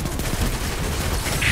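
An auto rifle fires in the Destiny 2 video game, a dense, continuous rattle of rapid shots over a rumbling low backdrop, lasting under two seconds with no talking.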